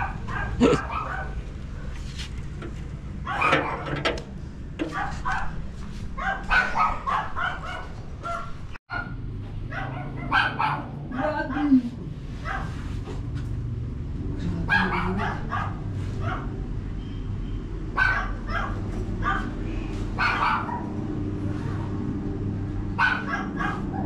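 Two dogs left behind at a house bark repeatedly in short, loud bursts, with yips and whimpers mixed in, continuing throughout over a steady low background hum.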